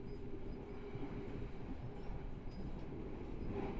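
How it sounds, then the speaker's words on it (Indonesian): The KA Blambangan Express runs nonstop through Arjawinangun station, heard as a continuous low rail rumble, steady and moderately faint, with no voices. "KA Blambangan Express melintas langsung Stasiun Arjawinangun"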